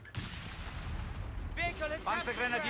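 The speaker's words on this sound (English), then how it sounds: "how fast these mortars are with their rate of fire and barrage" Mortars fire and their shells burst in a Company of Heroes 3 match, a loud, dense rumble of blasts with a commentator talking over the later part.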